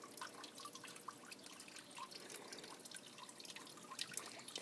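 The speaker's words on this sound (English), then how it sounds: "The sound of the water." Water trickling in a summer garden on a still day, a faint, soft continuous dribble with scattered light drips and splashes, quiet and somewhat distant, no talk.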